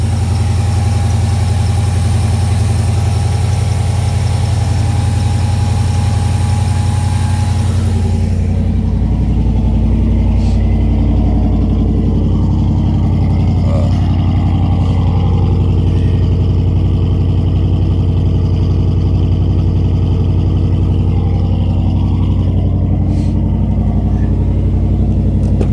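A car engine fitted with a Holley 600 cfm carburetor idles steadily and loudly at close range, around 1250 to 1300 RPM, a constant low rumble with no talk.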